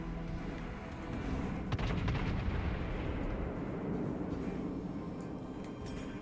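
Heavy naval guns from warships in the World of Warships game boom in a dense, rumbling barrage, the thunder swelling after the first second and rolling on steadily without a break; a voice is heard faintly.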